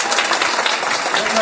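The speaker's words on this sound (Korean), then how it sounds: "우리가 루치와 피델리스 가정을 위해서 또 격려의 박수를 드립니다." A church lecture audience gives a short burst of encouraging applause, many hands clapping together in a thick, close wash of sound, with a voice mixed in.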